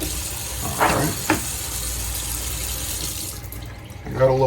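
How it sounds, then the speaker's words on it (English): Tap water running steadily into a pan to make a salt brine in a kitchen, a constant hiss of flow with a voice speaking over it in short bursts. "I got a little water in the pan."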